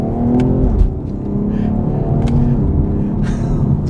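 BMW X3 M Competition LCI accelerating hard with its sport exhaust, a loud, steady engine roar with rising harmonic tones throughout and no talking.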